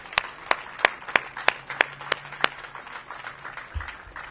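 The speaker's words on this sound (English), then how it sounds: "So let's give them a big round of applause" Applause at a high school ribbon-cutting ceremony, with sharp, evenly spaced claps standing out in a regular rhythm before thinning into softer scattered clapping.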